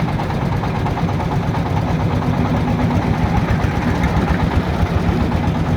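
A boat engine drones steadily and loudly throughout, a constant low rumble with vibration, heard on a river trip toward Sada Pathor in Sylhet.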